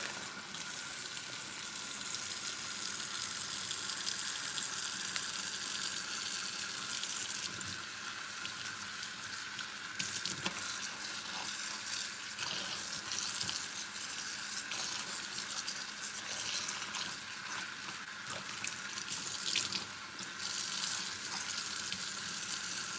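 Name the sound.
water running while rinsing dyed hair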